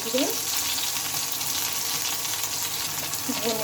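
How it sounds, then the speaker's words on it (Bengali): Green chillies and cumin seeds frying in hot oil, a steady close sizzle broken by a few scrapes of stirring, with no talking. "দুটো কাঁচা লঙ্কা একটু ভালোভাবে নেড়ে করে নেবো দিয়ে নেব জিরে"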